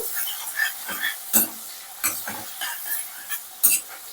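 A spoon scrapes and clinks against a pan in irregular strokes, stirring mushroom and cashew curry with a soft sizzle underneath, close by.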